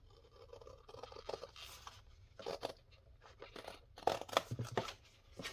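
Scissors snip through a cardboard file folder at close range, quiet crisp cuts and scrapes in irregular bursts, with a cluster of sharper snips toward the end.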